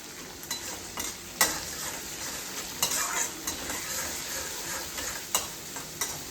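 Curry leaves are stirred in a hot frying pan, giving a soft continuous sizzle with periodic scraping clinks of a spoon against the pan, close and fairly quiet.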